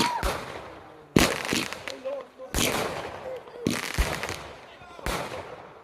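Fireworks burst in a rapid series of sharp, loud cracks and booms about once a second, each trailing into crackle, with voices chattering underneath.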